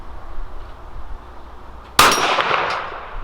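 .22 magnum round striking a steel silhouette target, a single sharp metallic clang ringing out after quiet ambient noise, with a short fading ring afterward.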